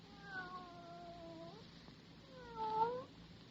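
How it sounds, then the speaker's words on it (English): A cat meows and caterwauls in a radio drama, two drawn-out wavering yowls separated by a short pause, fairly quiet with no talk. "Here, kitty, kitty, kitty, kitty, kitty."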